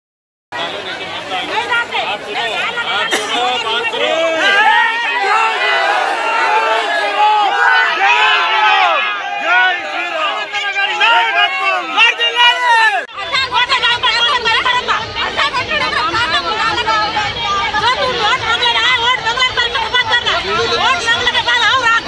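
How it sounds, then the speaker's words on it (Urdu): Rally supporters in Telangana, Hyderabad region, raise slogans as a dense crowd of voices shouts and chatters loudly and continuously, with the mass of sound growing thicker partway through. "اروند کے حامی جیسار نعرے لگانے لگے"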